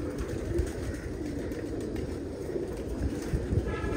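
Pet pigeons cooing in their loft, a soft continuous low murmur of coos with repeated throaty pulses, close and steady, over a faint background hum.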